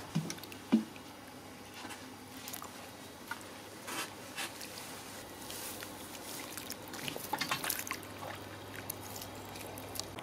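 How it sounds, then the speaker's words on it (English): Newly planted autumn containers being watered in thoroughly, with soft splashing, pouring and squishy soil sounds coming in irregular bursts, close by and fairly quiet, with no talking. "And then we just need to water them in thoroughly."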